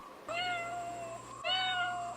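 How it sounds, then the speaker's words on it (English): A cat named Midnight meows twice, each a drawn-out, fairly close call separated by a short pause, over a low steady hum in a quiet room. "Oh, you cute cat."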